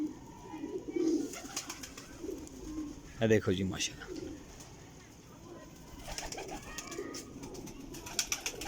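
Sialkoti pigeons coo in soft, repeated low calls close by, with someone speaking briefly over them and brief rustling in between.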